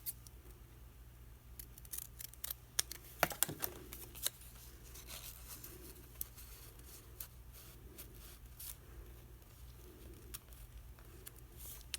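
Scissors snip through a paper tag with a few quiet, sharp cuts close by, followed by light rustling and tapping of paper on a desk.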